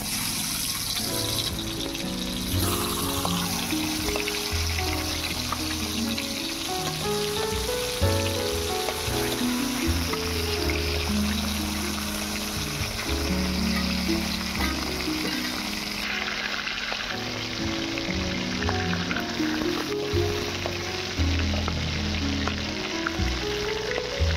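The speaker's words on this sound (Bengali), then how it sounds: "এবারে মাছের মাথাগুলো ভেজে নেব।" Hilsa fish heads frying in mustard oil in a wok, a continuous loud sizzle and bubbling crackle close by for the whole stretch, without speech.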